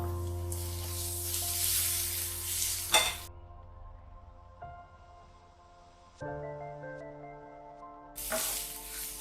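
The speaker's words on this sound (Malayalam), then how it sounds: "ഇത് പച്ചമണം മാറുന്ന വരെ ഇളക്കി കൊടുക്കുക." Masala spices frying in a pan for chicken pola, sizzling loudly while being stirred, with a sharp scrape near the middle, a quieter stretch, then the sizzle and stirring swelling again near the end; no talk.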